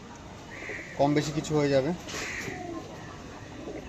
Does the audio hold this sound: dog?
no